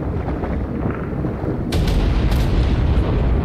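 Bombardment in the game Ark, a loud continuous roar of booms that swells abruptly partway through into heavier, overlapping blasts, with no talking.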